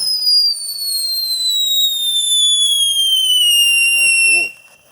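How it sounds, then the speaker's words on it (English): An Alien Fountain firework from World Class Fireworks whistles steadily in several shrill tones that slowly fall in pitch, loud and close for about four seconds before cutting off. "Alien fountain, world-class fireworks."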